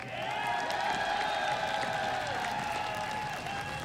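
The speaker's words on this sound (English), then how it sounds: "First of all, round of applause." A large arena crowd applauds and cheers on stage after OG beat TSM in Game 3 of the IEM San Jose 2015 League of Legends semifinal, a continuous roar of clapping with sustained music tones underneath.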